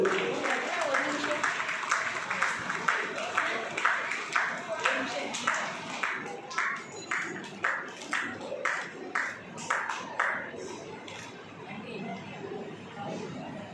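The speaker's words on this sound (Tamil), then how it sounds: "உங்கள் பலத்த கரகோஷங்களோடு" Audience applause at the Bharathi festival award ceremony for the Chellamma Bharathi award, a dense crowd clapping with chatter that settles into rhythmic, synchronized claps before fading.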